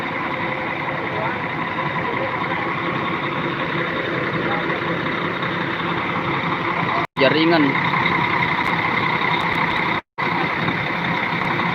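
A steady engine drone of a bus running nearby, constant and loud, with a voice speaking briefly and two short cuts in the sound.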